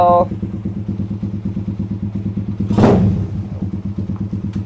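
A custom Suzuki Raider R150 cafe racer motorcycle idling close by with a fast, even engine pulse that swells in a brief rev, then settles back to idle.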